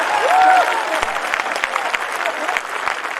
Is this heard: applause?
yes